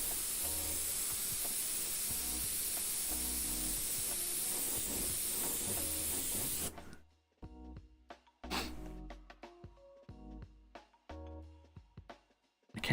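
An airbrush sprays paint in a steady, loud hiss for several seconds, then cuts off, followed by quieter intermittent short bursts and faint clicks.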